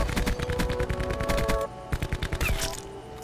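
Rapid bursts of video game gunfire from a recon-sight gun, loud and close, with a dense stream of shots followed by shorter, separated volleys.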